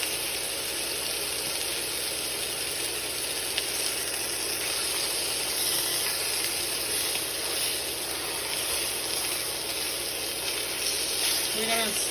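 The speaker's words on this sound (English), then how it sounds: "We're gonna let this sear on the other side for 2 more minutes" A pork chop sears in a hot pan with a steady, loud, continuous sizzle and hiss that holds unbroken from start to finish.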